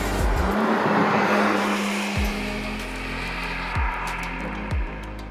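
A 2025 BMW M4 Competition with its 8-speed M Steptronic transmission roars loudly, its engine and exhaust droning steadily with a few rising revs and brief sharp bursts layered over the sound, with no one talking.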